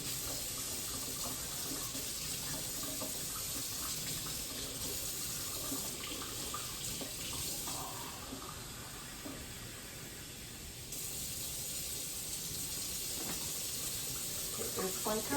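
Warm water runs steadily from a kitchen tap, measured out for bread dough, a continuous hissing splash that holds through the whole stretch with a slight dip partway.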